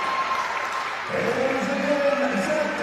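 A crowd at a wheelchair rugby league state challenge match applauds and cheers, swelling partway through into louder clapping with a commentator's voice faintly underneath.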